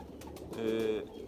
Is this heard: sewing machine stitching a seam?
no